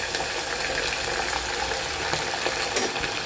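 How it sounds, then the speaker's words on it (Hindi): Beef liver frying in oil, a dense, steady sizzle and crackle with occasional stirring, close and fairly loud throughout. "हम इसको भूनेंगे, अभी ऑयल में इसको भून लेंगे"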